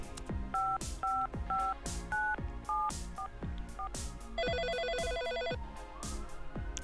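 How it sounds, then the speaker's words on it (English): Telephone keypad tones in the video game Always Sometimes Monsters beep one by one in a quick dialing sequence, then a ringback tone buzzes over a steady rhythmic musical backing. "maybe we should phone Jeff."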